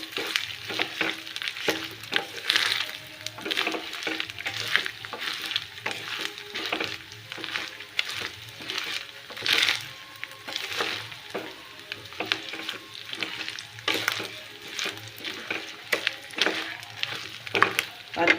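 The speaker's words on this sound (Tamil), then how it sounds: "வறுத்துட்டு காட்டுறேன்" Coconut dry roasting in a pan for vatha kulambu, with a steady scraping of a spoon stirring and a soft crackling sizzle throughout. Brief voice sounds may come through in places.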